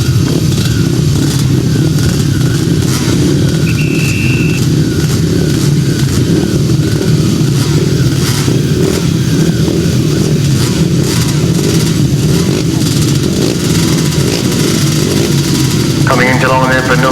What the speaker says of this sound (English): Coming into line there for another cracking heat of 350, Georgie Wood, Josh Dingle, Simon Phillips,